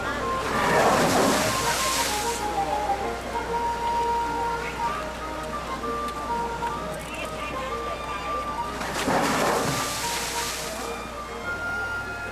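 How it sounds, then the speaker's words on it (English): At The Living Seas attraction, water sprays out as if a wave has struck: two loud, broad, hissing bursts several seconds apart over a steady murmur of water and background noise, with faint talk beneath. "suddenly have the water come spraying out of it as if a wave hit it seemingly out of nowhere"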